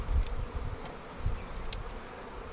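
Honey bees buzz around a weak hive being robbed, a close, steady insect drone with a few nearer passes and wingbeat flurries.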